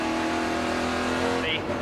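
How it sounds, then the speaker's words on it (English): Engine of an onboard stock car racing at Kentucky in the 2010 Nationwide Meijer 300 roars steadily and loudly, a dense high drone, with a broadcast voice talking over it. "Let's ride on board with Allgaier."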